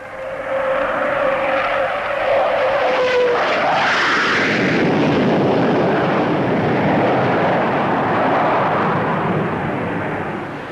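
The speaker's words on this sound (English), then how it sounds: "Another is the Vickers Valiant." A Vickers Valiant jet bomber roars past at the Farnborough air show, a whining tone giving way to a loud, broad jet rush that swells and lingers.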